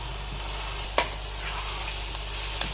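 Beef keema sizzles steadily as it fries with ginger garlic paste, a constant hiss punctuated by a couple of sharp stirring knocks against the pan, with no talk.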